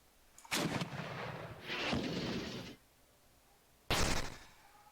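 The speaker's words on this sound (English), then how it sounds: "What I'm going to do instead is I'm going to shoot my high explosive at him." A tank main gun fires a high-explosive shell in the video game Armoured Commander 2, a loud booming blast with a rumbling tail, followed by a second sharp report a few seconds later.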